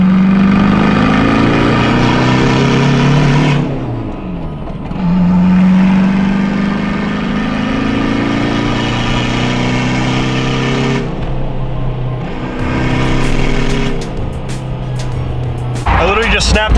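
A VW MK5 hatchback drives around the block, its engine humming steadily close by and rising and falling as it accelerates and shifts, with a voice talking over much of it.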